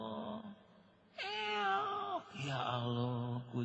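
A cat meows close by in two drawn-out, wavering cries, the second sliding into a longer whining call, with faint room noise between and no talk.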